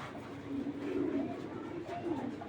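Pigeons coo softly in repeated low murmurs at a racing-pigeon farm, faint under a busy background hum.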